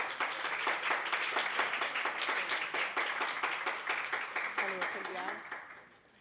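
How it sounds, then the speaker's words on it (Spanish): Applause from an audience at a pre-election gathering, made of rhythmic, fairly distinct claps that stay steady and then fade out at the end, with some voices mixed in. "les voy a pedir un aplauso"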